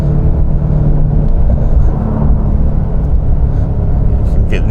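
Deep, steady rumble from a 2023 Porsche 911 Sport Classic twin-turbo engine pulling in second gear, heard from inside the car as a dense, continuous low roar.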